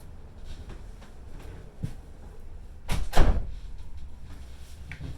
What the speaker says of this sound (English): let me close this door over here